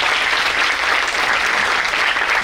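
Audience applause at a student motivational seminar, a dense, steady wash of clapping from a crowd, fairly loud and without talk.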